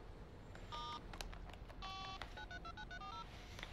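A telephone being dialed to call the police: a quick run of separate touch-tone beeps in short bursts, fairly close, over a steady low background hum, with no talking.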